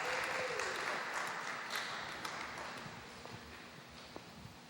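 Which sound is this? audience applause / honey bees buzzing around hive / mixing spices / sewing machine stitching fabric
audience applause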